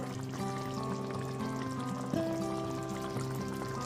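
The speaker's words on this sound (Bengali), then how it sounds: "এরপর এতে সামান্য একটুখানি সর্ষের তেল দিয়ে দিচ্ছি" Mustard oil poured into a pan of parshe fish curry, a soft steady pour over a backdrop of tonal music.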